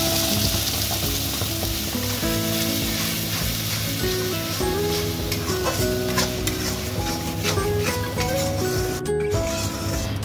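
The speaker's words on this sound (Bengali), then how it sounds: "ঘিটাও গরম হয়ে গেছে সুন্দর ভাবে আমি গাজরটা এর মধ্যে দিয়ে দেব" Finely ground carrot paste sizzles loudly and steadily in hot ghee while being stirred, a dense, continuous frying hiss heard close, with faint steady tones in the background.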